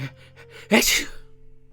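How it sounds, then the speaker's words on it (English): A single loud, close sneeze bursts out sharply after a brief quiet breath, then fades into near silence. "Your sneeze was so loud that his neighbours might have heard it."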